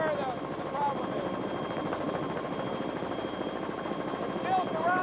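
Helicopter flying over 1993 flood waters around the Des Moines Water Works, a steady rotor thrum and engine drone under a voice talking throughout.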